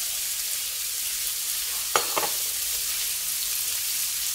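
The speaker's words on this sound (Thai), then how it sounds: "รวนหมูจนเริ่มสุกนะคะก็จะใส่ถั่วฝักยาวลงไปเลยค่ะ" Minced pork and long beans stir-frying in a pan give a steady, soft sizzle, broken near the middle by a couple of brief clanks from a utensil against the pan.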